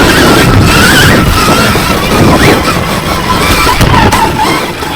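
A Stark Varg electric motocross bike rides trail around home, loud wind buffeting and tyre rumble over dirt with a rising and falling electric motor whine, close and continuous with no talking.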